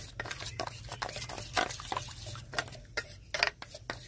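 Spoon stirring cornflour into oil in a bowl while making lachha paratha, giving repeated light scraping and tapping strokes at an irregular pace, close and fairly quiet over a low steady hum.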